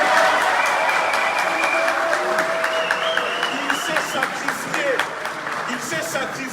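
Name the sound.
audience applause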